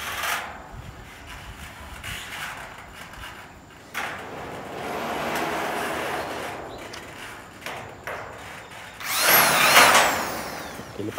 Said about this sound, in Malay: Lepas tu baru terus skru lah.